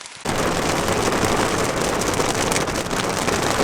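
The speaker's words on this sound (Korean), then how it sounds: "야 갑자기 소나기가 내립니다" A sudden rainy-season downpour hits at a stream inlet, a dense roar of broadband hiss that starts abruptly after a brief quiet moment and continues steadily and loudly.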